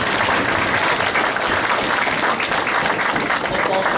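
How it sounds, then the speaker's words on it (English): Audience applause at a Hall of Fame ceremony honouring a 2011 championship team, a steady, dense wash of clapping throughout, loud and filling the hall. "Let's have a big round of applause for all of them."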